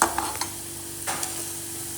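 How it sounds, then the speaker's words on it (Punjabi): A tempering for dal of peas, green chili and coriander with onion sizzles in hot oil, a soft steady frying hiss with a few light stirring clicks, fairly quiet and with no talking. "ਲੋ ਦਾਲ ਵਾਲਾ ਤੜਕਾ ਵੀ ਕਰ ਲਿਆ ਤਿਆਰ"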